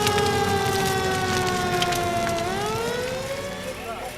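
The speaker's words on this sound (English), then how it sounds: "To Bear, it was ages before the wail of sirens filled the air" Sirens wail with rising and falling tones, loud and fairly near, gradually fading toward the end, with background noise underneath.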